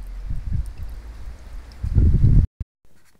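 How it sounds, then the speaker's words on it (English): With its spray nozzles off, a floating solar fountain pump pushes water straight out, giving a close, gurgling rush in uneven surges that cuts off abruptly near the end. "this is what it looks like with the spray nozzles off and just the water coming out directly from the pump."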